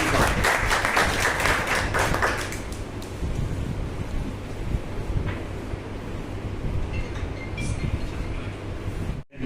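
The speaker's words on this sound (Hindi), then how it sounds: "तो प्लीज़ जोरदार तालियों से स्वागत करेंगे हमारे डीडी साहब का" Applause welcoming a Rotary district governor at a Rotary club event in Haryana, a strong burst of clapping in the first couple of seconds that fades into a steady, noisy crowd wash.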